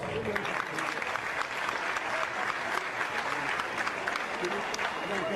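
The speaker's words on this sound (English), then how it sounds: "Give him a big round of applause." Crowd applauding at an SLPP political rally, steady dense clapping sustained throughout at close range, with cheering voices mixed into the din.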